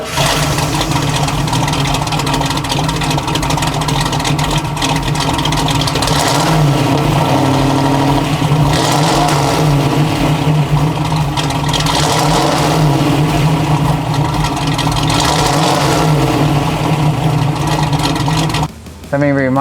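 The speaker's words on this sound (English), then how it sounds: "let's fire this 360 horsepower small block up" 1970 Camaro Z28 with a 360 horsepower small block V8, starting and revving loudly up close, the engine climbing and falling in repeated throttle blips over a rumbling idle, with a voice speaking over it.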